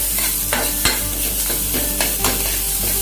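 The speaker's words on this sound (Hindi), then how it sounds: "हरी मिर्च भी डाल दूंगा और इसको मैं अच्छी तरीके से फ्राई कर लूंगा" Green onion and green chili fry in an oily pan, giving a loud, steady sizzle under repeated scraping strokes of a stirring spoon about every half second, with no talking.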